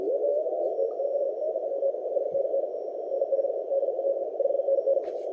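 Morse code CW signals on the 17-meter amateur band come through an Elecraft K4 transceiver during a pileup of stations calling 8Q7DX in the Maldives: a steady, continuous mid-pitched tone with overlapping keyed pulses, loud and uninterrupted.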